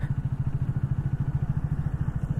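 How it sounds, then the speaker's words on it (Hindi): A Triumph Speed T4 motorcycle cruising in sixth gear at low speed gives a steady, throbbing mid-low engine drone with a rapid regular pulse and slight jerks, close and continuous, no talk. "सिक्स गियर में बाइक झटके हल्के फुलके झटके ले रही है, लेकिन बिल्कुल बाइक बंद नहीं हो रही है"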